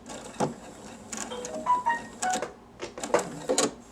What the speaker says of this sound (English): you're going to sew slowly just for a few stitches and then you're going to back stitch